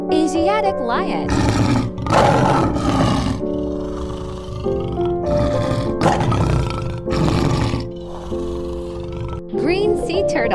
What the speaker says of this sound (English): Asiatic lion.